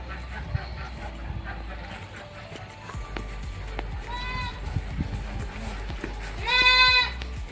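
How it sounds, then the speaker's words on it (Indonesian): Goats bleat in a communal village goat pen, one short call followed by a louder drawn-out bleat, over low rumbling background noise, scattered knocks and faint voices. "Kita memasuki kandang kambing komunal."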